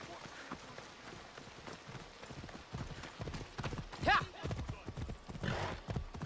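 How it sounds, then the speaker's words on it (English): Horse hooves clip-clop in the Assassin's Creed Odyssey video game, a quick rhythmic run of hoof beats under game sounds and a speaking voice, with a brief whinny partway through. "There's my horse."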